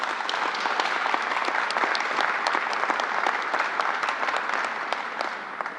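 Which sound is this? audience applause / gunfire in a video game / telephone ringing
audience applause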